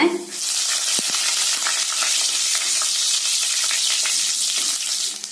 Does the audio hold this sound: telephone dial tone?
no